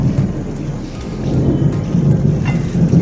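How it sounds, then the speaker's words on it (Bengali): Thunder rumbles at night with light rain falling outdoors, a broad low roll that swells and fades over a constant soft patter of raindrops, with no talking. "আকাশ ডাকছে, আর অল্প অল্প 2-4টে বৃষ্টি পড়ছে।"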